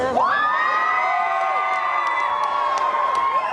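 Festival crowd cheering for a juggler, loud sustained whoops and shouts with a few sharp whistles rising over the roar, close and continuous.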